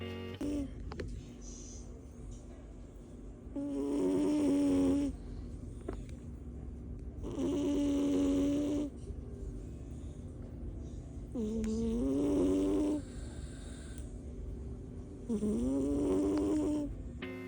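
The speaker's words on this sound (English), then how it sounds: "She's sleeping. And she snores, y'all." A sleeping cat snores in slow, regular cycles, each rasping inhale lasting a second or two, quiet and close, with brief pauses between breaths.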